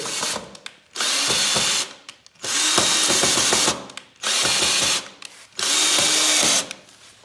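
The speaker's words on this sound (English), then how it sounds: "it's a lot easier to put the pipes in the bottom and then screw it in from the top" A power drill drives a screw through PVC pipe into a wooden 2x6 skiing and snowboarding rail, four sustained whirring bursts of about a second each separated by short pauses with clicks and handling noises, loud and close.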